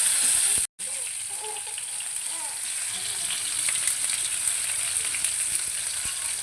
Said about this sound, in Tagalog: Lalagay na natin ang ating kamatis.